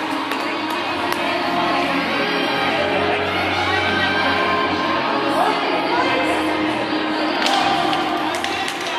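A crowd at a varsity high school volleyball game, Jefferson versus Osseo Park, keeps up a busy murmur of cheering and shouting, with occasional thumps and taps from the court and voices throughout.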